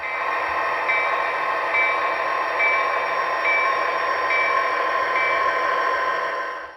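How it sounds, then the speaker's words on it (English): A model GP 39-2 diesel locomotive, number 373, running on a Katy Railroad layout, giving a steady close hum and rumble with faint repeated clicks as it rolls along. "GP 39-2, number 373, which would have been nearly new at this point, leaves the siding for its run to the yard."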